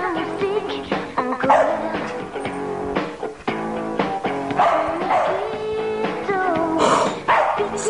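A dog barks and yips repeatedly up close, with excited whimpering bursts in an uneven rhythm, mixed with some background sound.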